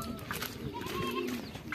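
Racing pigeons cooing at a loft during a derby race, soft throaty calls close by over a busy background murmur.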